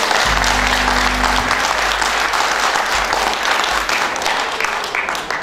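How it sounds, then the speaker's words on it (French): Audience applause fills a regional theatre hall during a tribute concert, a dense, steady wash of clapping from a large crowd that stays loud throughout, with a low hum faintly under it. "vraiment qu'on applaudisse encore ce charmant garçon."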